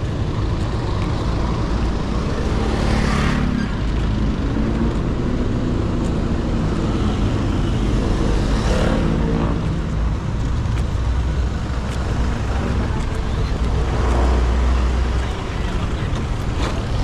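Road traffic heard near a walk to a market, a constant loud rumble of passing cars, trucks and buses with engine swells coming and going, and brief voices mixed in.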